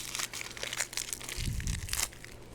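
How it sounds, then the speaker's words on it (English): The papery outer skin of an onion is peeled off, a close crinkling and tearing with a brief heavier crunch partway through, and no talking. "you want to take the first layer of the onion out. So just you can peel that right off"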